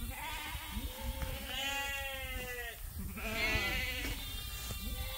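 Several sheep bleat loudly and repeatedly on a farm after heavy rain, overlapping wavering calls close by, with steady outdoor background noise.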